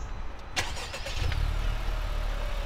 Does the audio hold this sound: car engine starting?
yes